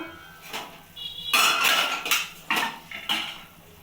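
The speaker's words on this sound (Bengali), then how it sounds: "এবার ঢাকাটা খুলে দেখে নেব" A metal lid clatters and scrapes against a cooking pot of boiled chicken being prepared for chicken bharta, several loud close clinks and rattles in irregular bursts, with no voices.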